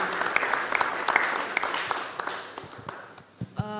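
Audience applause at a podcast talk event, a dense wash of clapping that fades out toward the end, with a few voices briefly heard as it dies down.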